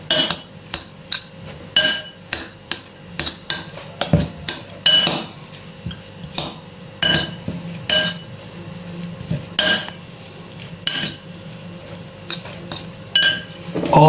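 A utensil stirs milk in a pan, clinking and scraping against the metal in irregular bursts, close and fairly loud, with a voice speaking now and then.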